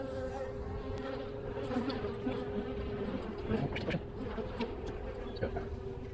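Honey bees hum steadily around an opened hive during the first inspection of the year in February, a close, continuous drone with faint handling noises scattered through it.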